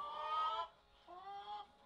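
A few chickens on an egg farm give soft, drawn-out clucking calls, two brief vocal bursts heard faintly and close in an otherwise quiet space.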